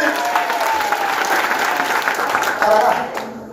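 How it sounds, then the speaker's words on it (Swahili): A crowd claps at a gathering, continuous loud applause with voices talking and calling out over it. "Haya tupige mashiro makofi mazuri."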